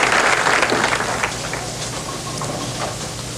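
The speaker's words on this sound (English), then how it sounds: "The crowd responding to Rogers' 4-pin" A bowling crowd at a 1988 final bursts into loud, sustained applause after a four-pin shot, the clapping strongest at first and then gradually thinning out.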